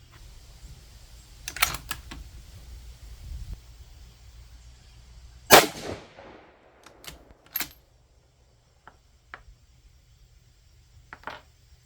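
A 6mm ARC rifle firing 95gr Berger VLD rounds outdoors, one sharp loud shot echoing away, then several fainter clicks and smaller reports amid quiet.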